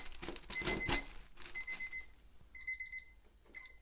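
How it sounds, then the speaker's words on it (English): A timer alarm rings in rapid, buzzy bursts of electronic beeping, fairly loud and near, over rustling and handling noises in a room with no speech. "there goes the timer"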